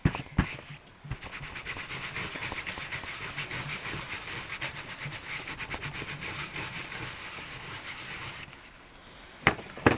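Fingers rubbing ink across paper to make a painted background, a continuous dry scratchy swishing that runs steadily for several seconds, bracketed by a few soft knocks and handling noises.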